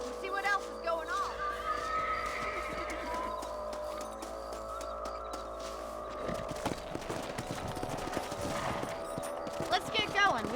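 Horses are ridden in the Red Dead Redemption video game, with hoofbeats clopping along steadily. Game characters talk over them, and a burst of movement noise comes toward the end.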